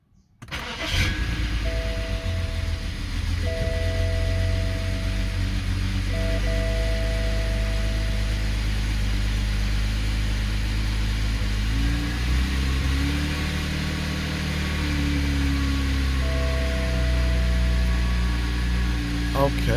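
A BMW X6 engine cranks and fires up after a fuel injector replacement, then settles into a steady, loud idle with a faint electronic beeping tone that starts and stops over it.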